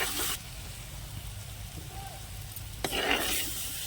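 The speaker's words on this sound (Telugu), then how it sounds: "దీంతో పాటు 1 స్పూన్ కారం, రుచికి సరిపడంత ఉప్పు వేసేసుకొని టమాటాలు పచ్చివాసన పోయేలాగా కొద్దిసేపు ఉడికించుకుందాం." Tomatoes with a spoon of chili powder and salt sizzle and fry in a pan for dhaba-style egg masala curry, a steady close frying hiss with louder stirring bursts at the start and end.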